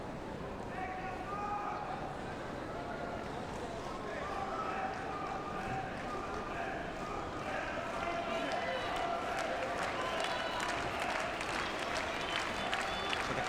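Restless crowd murmuring and clapping in an arena during a Paralympic judo bout at Rio 2016, a broad, continuous rumble of voices and scattered applause with a commentator talking over it.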